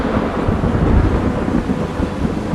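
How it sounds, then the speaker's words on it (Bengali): A thunder clap sound effect in a Bengali audiobook, heard alone as a loud, deep, continuous rumbling roll with a hissing, rain-like wash over it that never fades. "প্রচণ্ড শব্দে একটা বাজ পড়ল"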